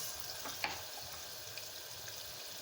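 Curry leaves with ginger, chili and garlic paste frying in a pan for a Punjabi-style moong curry, giving a soft, steady sizzle with a couple of faint clicks from the utensil.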